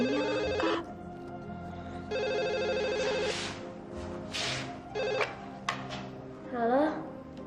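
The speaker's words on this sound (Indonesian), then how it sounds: "Ada telepon Mi." A telephone rings in a home in an Indonesian drama, with repeated bursts of a bright electronic ring separated by pauses. People talk in between and alongside the rings.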